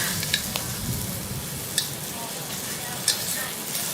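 Chinese kale stir-fried in oil in a wok, a steady hiss of sizzling broken by a few sharp clacks of the spatula against the pan.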